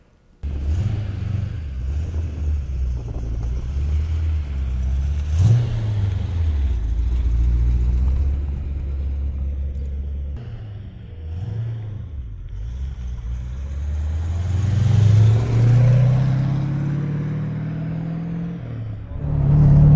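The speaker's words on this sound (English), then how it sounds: "what's it like to drive a big block four-speed Corvette?" A 1973 Chevrolet Corvette Stingray with a 454 big-block engine and four-speed manual, driven on the road: deep steady rumble with rising revs and shifts, swelling louder near the end, no talk.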